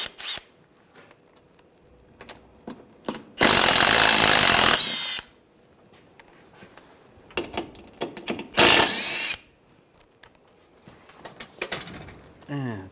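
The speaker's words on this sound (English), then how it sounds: "use a 10mm socket, take these bolts down" A power tool drives a 10mm socket, removing the shield bolts beneath a 2013-2016 Dodge Dart. It gives two loud, close whirring bursts separated by quieter clicks and handling noises.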